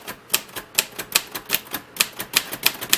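A 1940s Royal Quiet DeLuxe manual typewriter with sticking keys is typed on nearby, giving crisp, evenly spaced key strikes in a steady rhythm of about four clacks per second, each sharp and distinct against a quiet background.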